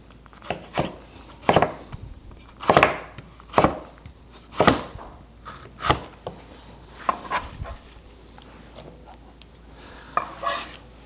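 Knife chopping garden tomatoes on a cutting board for pico de gallo: a run of sharp, close, irregular chops spaced about a second apart, with a few lighter taps and scrapes toward the end, no talking.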